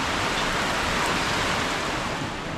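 Steady, dense hiss of rain falling, constant and fairly loud throughout with no other sounds.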